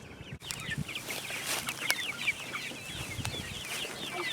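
A flock of Freedom Ranger meat chickens clucks and chirps softly nearby while foraging on pasture, many overlapping little calls scattered throughout, with a few faint knocks in the background.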